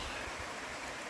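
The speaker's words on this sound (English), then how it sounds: "It's the North Fork of the San Jacinto River." The North Fork of the San Jacinto River flows in a soft, steady rush of water, a brief, moderately faint continuous hiss with no voices.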